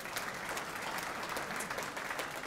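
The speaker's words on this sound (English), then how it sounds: "offer a big round of applause now for those guys that are here railing you all" Audience applause at the welcome for a 2012 poker main event, a steady faint wash of clapping from a large crowd heard at a distance.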